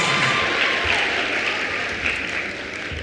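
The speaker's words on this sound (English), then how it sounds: "Let's just give a round of applause and appreciation for all our teachers and" Audience at a high school class of 2025 transition service applauding teachers and awardees, a steady broadband wash of clapping that holds for several seconds and fades slightly toward the end.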